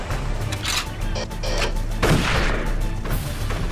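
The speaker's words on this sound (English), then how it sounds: "it's kind of like the real-life Javelin rocket launcher, except this one is a sort of automatic, well, burst fire weapon" Burst fire from an automatic rocket launcher in Darkest of Days, several heavy booming shots in quick succession with blasts and crashing impacts, loud and close, with no talking.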